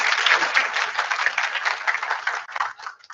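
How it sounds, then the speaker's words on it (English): Audience applause, a steady wash of many hands clapping for about three seconds, thinning toward the end. "That deserves a round of applause."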